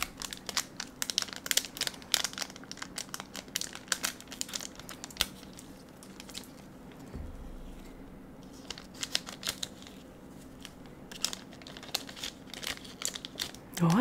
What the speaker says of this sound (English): let us keep opening some of the cards